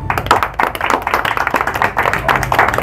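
Close, loud audience clapping at a social welfare association gathering, with individual hand claps standing out in an uneven rhythm throughout.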